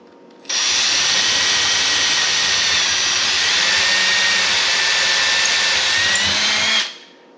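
A power drill whirs steadily at close range for about six seconds, drilling into a cabinet door, loud and continuous, starting and stopping abruptly.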